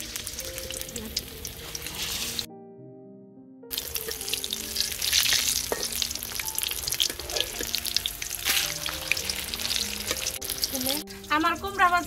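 Slices of chal kumra pumpkin fry in hot oil in a wok, a loud continuous sizzle and crackle, briefly cut by a silent gap, with faint tonal background sound.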